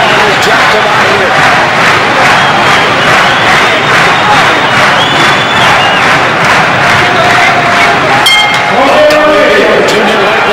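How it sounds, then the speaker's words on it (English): Boxing arena crowd roaring for French fighter Julien Lorcy before round one of a junior lightweight world title bout near Paris, a loud sustained wall of cheering and chanting with a commentator speaking over it. "Lorcy's crowd, you can hear him pumped up"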